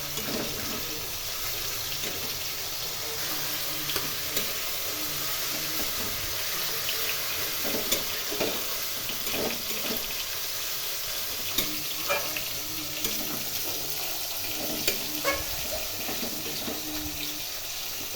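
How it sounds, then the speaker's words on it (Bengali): Cabbage fries in a pan over a low flame while being stirred: a continuous soft sizzle with scattered scraping taps from the spatula, moderately close and steady. "বারবার এই সময় নাড়তে হবে"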